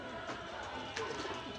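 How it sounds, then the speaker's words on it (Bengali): A Maya pigeon gives low, gentle coos, faint and close, against a steady hiss of background noise. "এটা মায়া কবুতর,"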